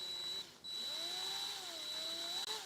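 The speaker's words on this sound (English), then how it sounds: "Can't really muffle my drill." A power drill working metal, heard faintly: a thin, steady high whine over a lower motor tone that wavers in pitch, with a brief break early on and no speech.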